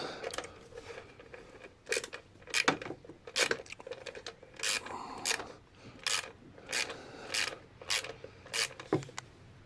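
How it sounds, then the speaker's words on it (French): An 8 mm wrench backs out a screw on the plastic body cover of a 50cc Malossi-equipped Speedfight 2 scooter, giving quiet, irregular metallic clicks and ratcheting scrapes up close. "Donc là, c'est une clé de 8. Je vais dévisser cette vis-là."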